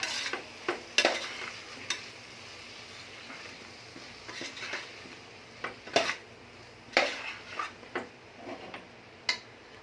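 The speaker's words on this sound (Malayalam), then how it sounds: "ഇത് നമുക്ക് നന്നായി വഴറ്റിയെടുക്കാം." A spatula scrapes and clacks against a pan as spices, coriander powder and garam masala, are sautéed for veg biryani, giving irregular sharp stirring knocks over a faint low sizzle, with no talk.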